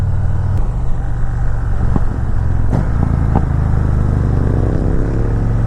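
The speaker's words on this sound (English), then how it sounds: "Some good backfire on those downshifts." A 2017 Victory Magnum motorcycle rumbles loudly and steadily while riding, with several sharp popping backfires on the downshifts cutting through the engine drone.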